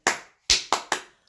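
A young woman claps for herself: four sharp, close hand claps, one alone and then a quick run of three after a short pause, each ringing briefly before fading.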